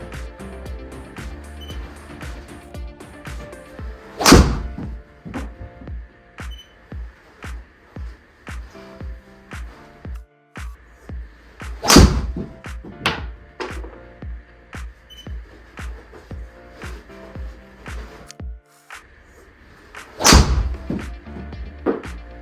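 Three sharp, loud impacts of a Titleist TSR3 golf driver striking balls, spaced several seconds apart, set against a steady rhythmic thumping background.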